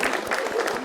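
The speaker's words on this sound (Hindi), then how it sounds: "ताली बजाइए भाई इनके लिए, ही इज अ हीरो।" An audience at a stand-up comedy show claps in a dense, steady burst of applause, close and fairly loud, with a voice faintly mixed in.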